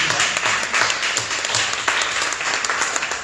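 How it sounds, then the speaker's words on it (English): Sustained audience applause at a Canadian Party of Quebec political panel in LaSalle, a steady dense wash of clapping from a sizable crowd, moderately loud with no voices over it. "It's sad we have to stop to give that applause"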